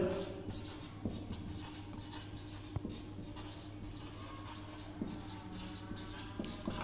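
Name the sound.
writing on the board during a maths lesson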